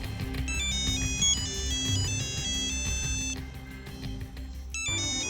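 A phone ringtone plays a repeating electronic melody of bright tones, sounding twice with a short gap, over a steady background of music and room noise, with no talk.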